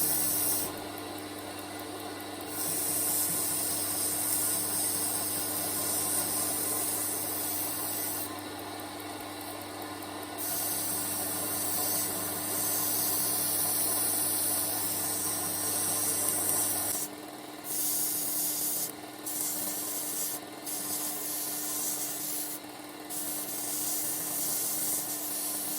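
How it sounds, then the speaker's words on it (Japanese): A belt sander hums continuously while a narrow strip of belt grinds and polishes the edges of a CPM154 steel kitchen knife, with the rubbing pitch shifting as the blade is repositioned and intermittent bursts of higher hiss. "細く切ったベルトで角を取りながら形を崩さず磨いていきます。"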